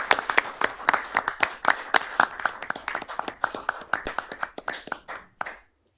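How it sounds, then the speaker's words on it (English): A small council-meeting crowd applauds two honorees, giving a few seconds of loose, moderately close clapping that thins out and then stops abruptly. "let's give these two a round of applause"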